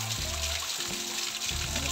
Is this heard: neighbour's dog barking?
no